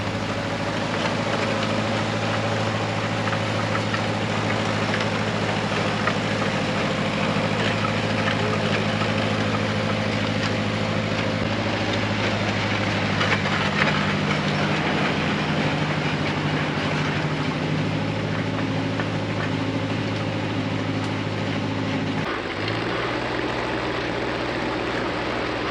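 A Nissan diesel engine swapped into an Oliver OC-3 crawler tractor runs steadily as the machine moves, a loud, continuous low drone with a brief shift in tone near the end and no talking.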